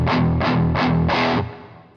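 Distorted electric guitar through an Angry Driver pedal playing four heavy, chugging chords with a thick, loose low end, the last one ringing out and fading.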